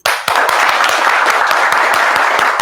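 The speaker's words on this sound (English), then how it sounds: "I want everybody to clap really loud" A seminar audience claps loudly all together, a dense, continuous burst of hand claps that starts abruptly and holds steady at full volume from start to finish.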